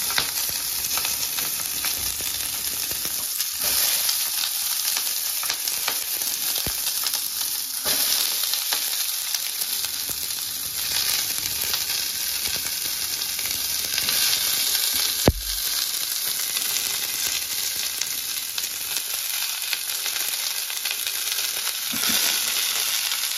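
Onions sizzle and fry steadily in a pan with a dense continuous crackle, punctuated by occasional stirring scrapes and a sharp knock, close and fairly loud with no talk.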